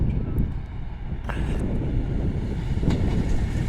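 A CrossCountry Class 220 diesel train rumbles through York station with a broad, steady low roar and faint higher whines, no talk heard.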